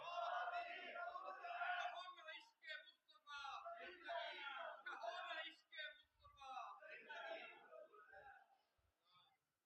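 A large crowd at an annual Milad gathering in a mosque in Sahiwal shouts a religious slogan in unison, loud, sustained voices rising and falling in several chanted bursts over about ten seconds.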